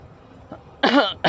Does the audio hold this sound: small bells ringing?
no